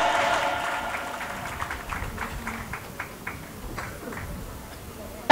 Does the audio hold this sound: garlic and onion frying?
no